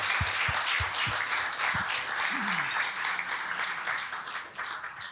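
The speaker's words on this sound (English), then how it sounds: "So please join me in a round of applause thanking them for their support." A crowd at an evening celebrating GPS's 50th anniversary breaks into sustained applause, dense clapping from many hands in a hall, loud and steady, with a few louder individual claps and a brief voice.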